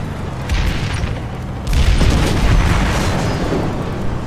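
A tank cannon fires in Planetside 2, a heavy boom landing partway through and rolling into a sustained low rumble over continuous engine and battle noise.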